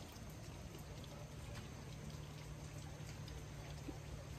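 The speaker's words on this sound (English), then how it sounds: "It's just raining." Light rain falls steadily as Hurricane Ida approaches, a soft, even patter with faint dripping and trickling, calm and continuous with no voices.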